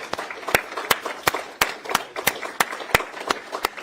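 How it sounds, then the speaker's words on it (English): Audience at a Washington think-tank forum on North Korea's future gives applause, heard as sparse, sharp individual claps at an uneven rhythm rather than a dense ovation, fairly close and without talk. "We'll give you some applause."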